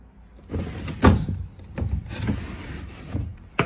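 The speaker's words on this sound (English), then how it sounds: "The drawers open and close correctly." Wooden drawers in a rental property are pulled open and pushed shut several times, giving soft sliding rubs and dull knocks at an irregular pace, close by.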